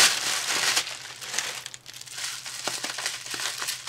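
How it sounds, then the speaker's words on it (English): Bubble wrap packaging crinkles and rustles close by, a dense continuous crackling with small sharp pops and shifting intensity as it is handled. "The next one is this brown, and it's in bubble tape. Or bubble wrap."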